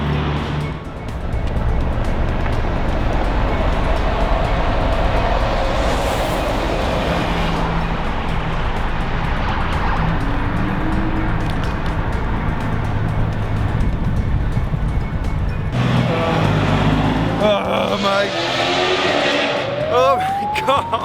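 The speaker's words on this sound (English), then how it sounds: "We've got all kinds of noises here, bikes, cars, sirens, helicopters, people, you name it, we've got it." City traffic at night beside a truck stop rumbles on without a break, with passing vehicles and engine drone, then a rising whine near the end, under occasional talking.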